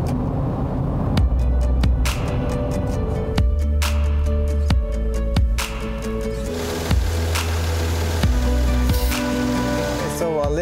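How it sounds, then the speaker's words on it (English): A car running on Cooper ST MAXX winter tyres during a test drive, with a steady low road rumble and tyre roar, broken by repeated thumps and clicks from inside the cabin. "now test drive. Let's go out and see how it's like driving on smaller and more drivable tires"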